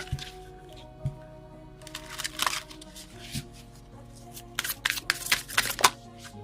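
Tarot cards are shuffled by hand in bursts of crisp riffling and rustling, with a faint steady hum beneath and no voice.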